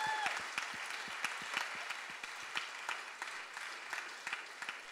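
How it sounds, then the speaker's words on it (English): Congregation at a church baptism service giving the baptism candidates a round of applause: a fairly faint, steady patter of many hands clapping throughout, with sharper individual claps standing out. "I'm going to ask you just to give these guys another huge round of applause"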